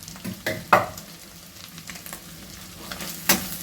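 Spatula scraping and tossing egg fried rice with a little chili powder in a hot pan, several quick clattering strokes over a soft steady sizzle, close by.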